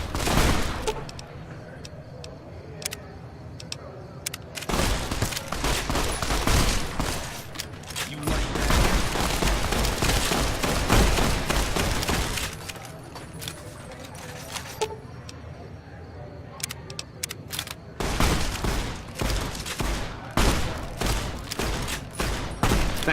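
Sustained gunfire in Fallout: New Vegas rattles through long, dense volleys broken by brief pauses, loud and close, with occasional voices mixed in.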